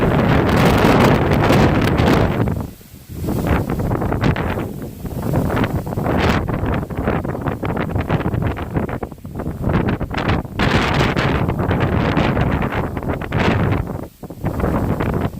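Strong storm wind in Japan sweeps across open rice fields, roaring and buffeting the microphone in loud, continuous gusts with only a brief lull.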